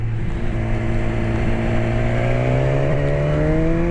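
A motorcycle engine drones close and loud as the rider brakes for a bend, its tone holding steady and then climbing gradually in pitch, with no voices.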